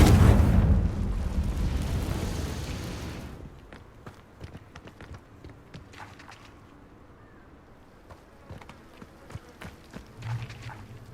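A loud blast from a fire spell in Hogwarts Legacy on PS5, booming at first and rumbling down over several seconds, then quieter footsteps and scattered light impacts.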